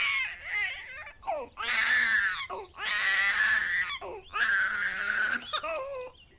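A hungry baby cries in three long, loud wailing bursts with short pauses between them, close to the listener.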